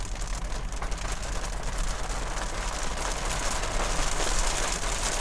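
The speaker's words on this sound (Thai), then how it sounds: "อ๋อฝนตกแล้วพี่น้อง" Rain falling steadily, a dense even hiss of drops on surfaces with a low constant hum beneath, unbroken throughout and without voices.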